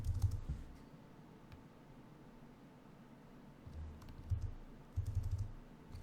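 Sparse, irregular keystrokes on a Cromemco computer keyboard while booting a 68000 Cromix system; faint clicks sit over a steady low machine hum.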